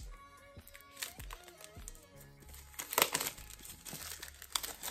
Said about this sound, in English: let's take this plastic off